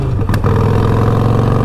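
A 2020 Harley Davidson Roadster with Vance and Hines exhaust, running rough after a fuel pack install, gives a sharp pop early on, then a loud, close, lumpy engine rumble.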